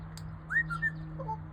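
Parrot out in a garden whistles a few short rising and falling notes, close and clear, over a faint steady background hum.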